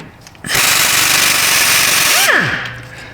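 A lightweight impact wrench rattles steadily for about two seconds while backing out brake bolts on a car, then spins down sharply, close and loud, with no voices.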